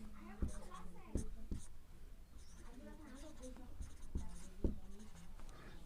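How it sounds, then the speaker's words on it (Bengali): Handwriting with a pen on paper during a math lesson, soft scratchy strokes with a few sharp taps, heard under a man's steady speech. "লিখছি"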